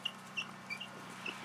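Chickens in their new coop with fresh shavings cluck and peep softly in a few short, scattered chirps over steady background noise.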